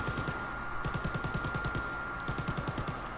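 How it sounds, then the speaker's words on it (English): MG42 machine gun firing in Call of Duty WWII Zombies, a fast continuous rattling burst of rapid shots in an even rhythm, steady and fairly loud, under a constant background game drone with no speech. "I'm going to go on this MG42 though."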